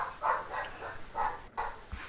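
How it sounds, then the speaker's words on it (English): A small terrier barks and yelps in short, agitated bursts from another room upstairs, muffled and moderately faint, with a few separate outbursts across the clip. "You hear my little terrier having a hissy fit upstairs?"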